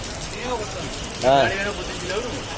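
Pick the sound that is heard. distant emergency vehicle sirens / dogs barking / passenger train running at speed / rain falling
rain falling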